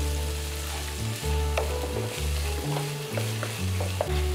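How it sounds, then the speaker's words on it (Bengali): Spinach fries in a pan with a little salt and is stirred, a steady loud sizzle running throughout under periodic scraping strokes of the utensil, with no voices. "এটা আমি একটু নাড়তে থাকি।"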